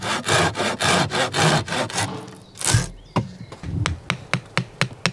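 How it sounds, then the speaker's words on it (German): A handsaw cuts a wooden stick outdoors in rhythmic back-and-forth strokes, close and loud, then after a pause gives way to a faster series of short, sharp wooden knocks. "ich habe ein paar Mal eingesägt"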